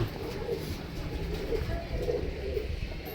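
Domestic pigeons kept for breeding cooing in a loft, soft repeated low throaty coos under a steady murmur of background noise, with faint indistinct voices nearby.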